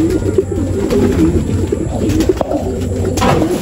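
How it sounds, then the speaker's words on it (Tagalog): Pigeons coo repeatedly in a low, throaty murmur at a racing-pigeon loft during training, several birds overlapping in a steady, close chorus with no talking. "Ayun mga kalapatids."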